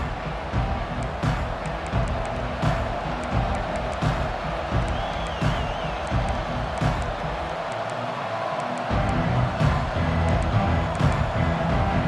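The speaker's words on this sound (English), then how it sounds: "This crowd, full throat, splitting the eardrums and letting them know it's going to be a long day." Dense, roaring stadium crowd noise from the College Football 25 video game, a continuous loud cheer right after a touchdown and kickoff, with swelling whoops and a brief dip before surging again.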